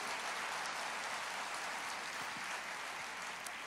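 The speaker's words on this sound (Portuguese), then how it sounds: "Você pode aplaudir o Senhor?" A church congregation applauds in a steady, dense wash of clapping that sounds somewhat distant and fairly soft, holding even throughout with no speech over it.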